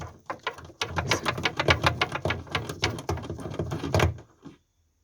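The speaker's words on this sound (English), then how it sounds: "So we have to undo this bolt." Rapid ratcheting clicks from a wrench undoing a 10mm bolt on a Toyota Highlander tail light assembly, a fast steady burst for about four seconds, close and clear, then stopping.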